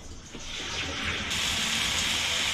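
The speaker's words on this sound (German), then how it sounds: "Wir gießen ab." Water pours and gushes out of a pot as potatoes are drained, building quickly into a steady rushing splash that continues loudly to the end.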